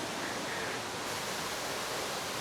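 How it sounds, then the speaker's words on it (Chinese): A big waterfall in Chishui, Guizhou, heard from close by behind the falling water, roars as a constant, even rush of white noise with no voices. "我现在就在大瀑布的背后"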